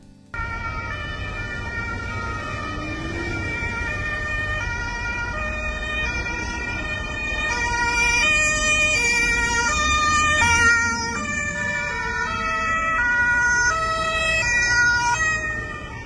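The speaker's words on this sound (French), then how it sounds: "on dirait que les sirènes de police allemandes, elles ont 3 grammes dans le sang" German police sirens wail at an emergency scene, several tones cycling and overlapping, loud and steady, swelling a little toward the middle, with no talk.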